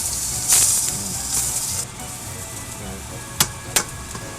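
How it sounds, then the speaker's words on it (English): Thin chicken breast sears in a hot pan, a steady bright sizzle with a couple of sharp clicks and bumps, close and loud with no talking. "Let's see if it's got a good sear or not."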